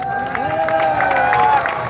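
A crowd at a live Punjabi village mela breaks into clapping and cheering, with scattered claps over a sustained musical tone and a murmur of voices.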